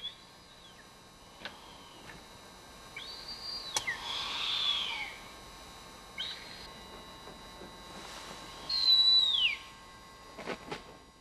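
A Blakiston's fish owl calling near its nest, mixed with scattered thin whistles, short chirps and sharp ticks at irregular intervals, with one louder sweeping call near the end against a quiet night background.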